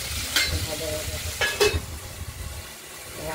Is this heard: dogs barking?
no